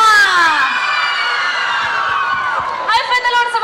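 A concert audience of screaming, cheering girls rises into shrill whoops and shouts, loud and sustained, with a brief voice near the end as two singers are welcomed on stage.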